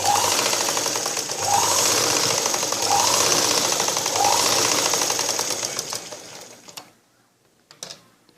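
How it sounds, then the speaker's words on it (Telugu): A sewing machine stitches a blouse in steady rapid bursts for about six seconds, close and loud, then stops, leaving a few faint clicks and handling sounds. "ఈ విధంగా ఇప్పుడు మళ్ళీ రెండోసారి స్టిచ్చింగ్ చేసుకోవాలి."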